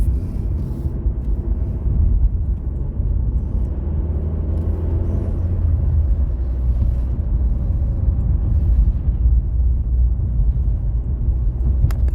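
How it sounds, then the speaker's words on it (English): Mk1 Ford Focus driving on the road, a steady low engine drone and road rumble heard from inside the car, constant and fairly loud throughout with no talking. "I'm really enjoying like this first drive back in the Focus"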